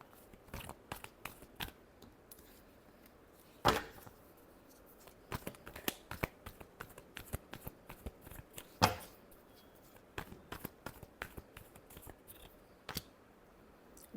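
Tarot cards are shuffled by hand in a string of quick, dry riffling clicks and flicks with a couple of sharper snaps, close and quiet, with no talking over them.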